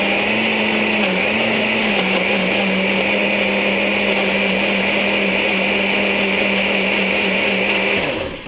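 A Magic Bullet blender blends bananas with a loud, steady high motor whine, the pitch dipping slightly at the start, running close and alone before winding down at the end.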